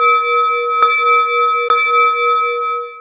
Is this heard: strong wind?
no